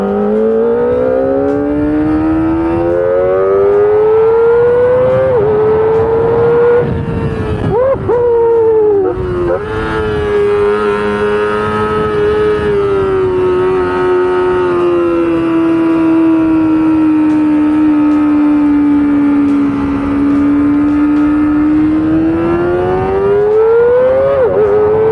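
A Kawasaki ZX25R four-cylinder sport motorcycle screams at very high revs while riding on an open road, the engine note climbing and holding a loud sustained whine, dipping briefly around a gear change before rising again, close and dominant throughout.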